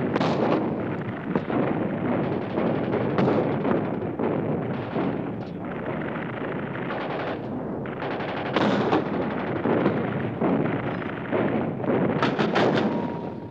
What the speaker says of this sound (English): Heavy mortars firing from 8 miles away blasted the interior of the strongholds